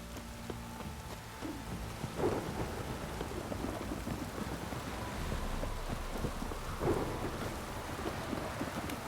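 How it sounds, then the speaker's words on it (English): Heavy downpour with rolling thunder in The Witcher 3, steady rain hiss over low rumbles that swell twice, moderately loud with no voices. "This downpour's a bastard, it is."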